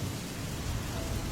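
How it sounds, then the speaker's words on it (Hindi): Heavy cartoon-style rain pours as a steady, dense hiss with a low rumble of thunder underneath, loud and constant throughout, with no voices. "धीरे धीरे मौसम खराब होने लगता है और तेज बारिश शुरू हो जाती है"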